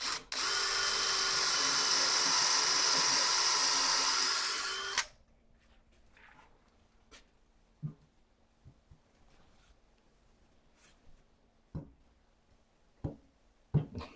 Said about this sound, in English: I'm going to put a worm screw in somewhere around there